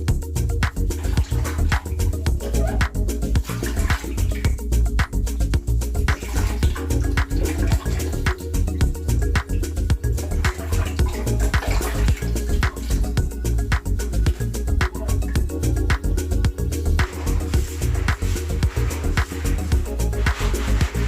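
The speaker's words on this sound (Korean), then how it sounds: "다음 어항을 옮겨서 깨끗이 씻어 보겠습니다." Water running steadily while a goldfish tank is washed out, a continuous loud splashing rush that fills the whole stretch without any talking.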